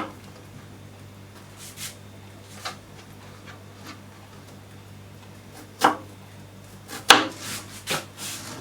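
A knife cuts potatoes and onions for an American-style retro bacon soup, with sparse soft chops and scraping rubs against a cutting board, a few sharper knocks standing out over a quiet kitchen hum.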